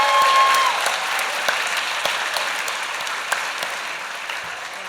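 An awards-gala audience applauds the evening's wait staff, dense sustained clapping filling the room and slowly tapering, with no talk over it.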